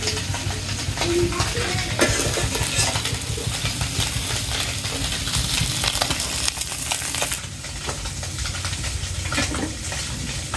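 Small fish fry in a kadai filled with oil, crackling and sizzling steadily throughout, with occasional clinks and stirring scrapes from a utensil close by, and no one speaking.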